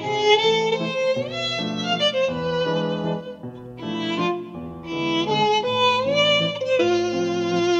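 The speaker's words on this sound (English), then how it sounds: "what you hear is a complete MIDI recreation of the track, played with the Chris Hein solo violin" Chris Hein solo violin sample library playing a MIDI recreation of a track, a continuous expressive bowed melody with sliding notes and rich harmonics, close and alone.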